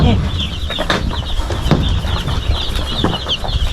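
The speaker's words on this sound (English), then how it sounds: "Chicken in front of you." Chickens in a coop cluck and squawk in busy overlapping bursts alongside scraping, rustling and wing flaps, up close and loud, with faint voices in the background.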